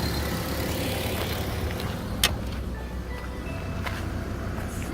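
A stock 2006 Mazda Miata MX-5 idles quietly outdoors, a low, steady engine rumble with faint background noise and one short sharp knock midway.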